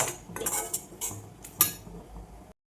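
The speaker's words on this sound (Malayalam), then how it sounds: "മാങ്ങ വേവിക്കാനുള്ള ചട്ടി വെച്ചിട്ടുണ്ട്" A metal cooking pot for mangoes is set down on a stove with a clatter of several close, bright metallic clinks and knocks, then a short scrape before the sound stops.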